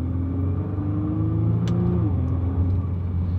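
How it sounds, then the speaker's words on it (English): A Nissan GTR with an ARMYTRIX exhaust idles and revs in a steady, close rumble, its engine tone shifting pitch midway, with a brief sharp click over the sustained drone. "So I think the exhaust sounds pretty good if I'm honest."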